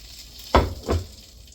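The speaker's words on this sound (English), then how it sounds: "we're frying Spanish rice now" Two short bursts of Spanish rice sizzling as it fries in a pan, close up, with a quiet pause between them and no talking.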